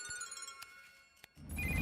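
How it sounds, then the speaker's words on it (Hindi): A phone ringtone plays in a police station scene, a faint tonal melody with a brief clink in the middle before a sudden louder burst of noise at the end. "फोन आया।"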